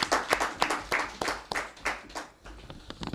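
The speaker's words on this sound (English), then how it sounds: "we can give Mr. Janny Sikazwe a round of applause." Journalists and press members at a press event applaud for a retiring football referee, a few dozen pairs of hands clapping in uneven bursts that rise and fall, near and moderately loud, with no voices over it.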